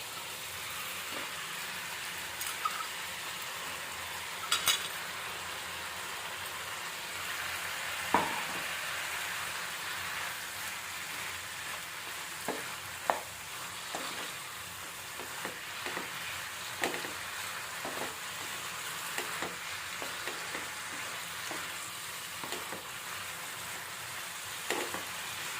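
Pumpkin flowers frying with potatoes in a pan, a steady close sizzle with scattered pops and crackles throughout and occasional stirring clicks.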